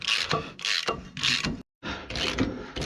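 Socket wrench ratcheting close up while bolts are tightened on an Ursus C330 tractor, several bursts of clicking separated by a short pause.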